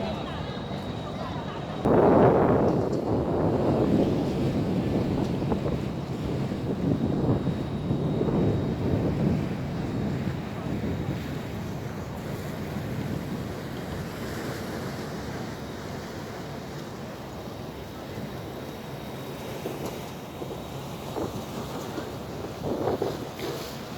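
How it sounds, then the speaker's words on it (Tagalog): Strong wind at a seaside park buffets the microphone in loud, rumbling gusts for a long stretch, with voices talking intermittently underneath. "Mahangin. Sobrang mahangin."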